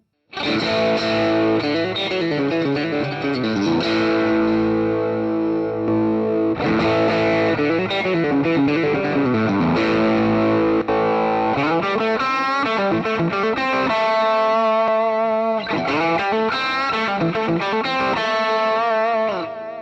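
A distorted electric guitar on its bridge pickup, a GTRS M800 smart guitar, with a bright, twangy edge plays chords and riffs continuously, loud and close, with modulation effects swirling the tone.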